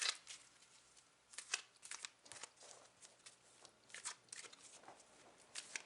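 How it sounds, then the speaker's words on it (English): A deck of tarot cards is shuffled close by in quiet bursts, with crisp riffling and sliding card sounds repeating in short irregular clusters separated by brief pauses. "This is just extra shuffling so I can concentrate my energies on you."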